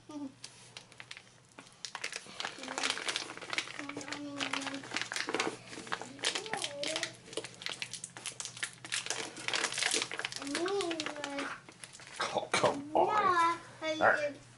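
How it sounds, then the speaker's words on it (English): A bag crinkles and rustles loudly as a wrapped item from a PMP prep box is pulled out, with bursts of crackling throughout while a child babbles and people talk nearby. "Let's see if I can get this out of the bag without cutting myself."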